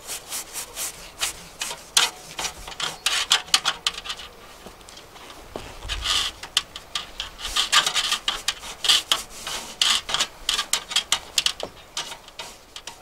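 Wire brush scraping crusty soot inside a narrowboat stove's flue pipe, a rough, gritty rasping in irregular bursts of strokes, close and fairly loud with brief pauses between scrapes.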